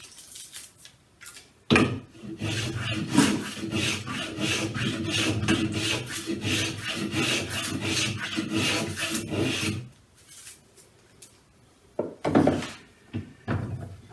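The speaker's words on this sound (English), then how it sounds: "using my planer." A hand planer shaves a wooden guitar top in a long run of steady rasping strokes lasting about eight seconds, followed by a few isolated scrapes and knocks.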